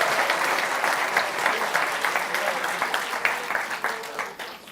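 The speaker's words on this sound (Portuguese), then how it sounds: "vai aplaudir a aplauda forte" A church congregation claps loudly and steadily in dense applause, tapering off at the end.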